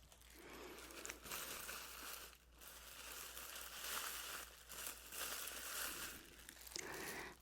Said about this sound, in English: we are going to start with the classic crinkle sound, which is the plastic bag